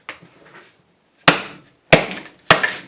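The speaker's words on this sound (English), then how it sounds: "So what I'm going to do here is bust this one to demonstrate that it is indeed calcite." A calcite crystal is struck to split it along its cleavage: three sharp, loud, close raps ring out after a few faint taps, each blow followed by a brief crackling decay.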